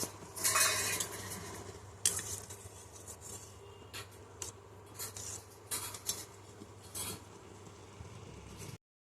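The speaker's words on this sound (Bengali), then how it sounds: "আর এই মাংসের তরকারিটা গরম করা হচ্ছে এখন" Meat curry reheats in a pot while a metal spoon stirs and scrapes against it, giving intermittent clinks and scraping bursts over a faint low simmer, with no talking.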